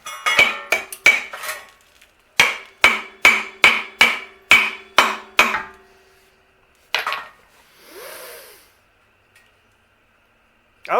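A hammer pecks on metal parts of a Hardbody truck in two quick bursts of sharp ringing taps, seven or eight strikes each, followed by a lone knock and a short scraping sound.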